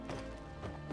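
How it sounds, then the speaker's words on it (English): Horse hooves clopping in the game Skyrim, a steady run of muffled, evenly spaced footfalls heard close and fairly loud across the whole moment, with no talking over them. "That's a nice horse."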